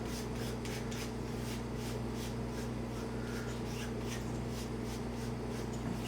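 Steady soft rubbing as a cloth wipes along the steel blade of a Microtech Mini Socom knife on a sharpening bench, a continuous close scuffing texture over a low constant hum.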